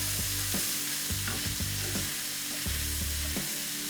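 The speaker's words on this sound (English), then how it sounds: "So I've got some thinly sliced red onion along with some peppers. And we'll give that a stir" Thinly sliced red onion and peppers stir-frying in oil, a steady loud sizzle broken by repeated scraping knocks of a utensil stirring the pan.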